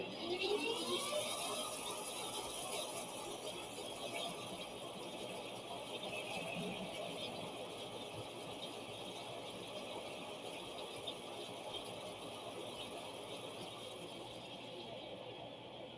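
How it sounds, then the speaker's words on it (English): Metal lathe running at a distance, giving a faint, steady mechanical whir and hum with light rattling throughout and no talking. "I'll go ahead and turn on my lathe."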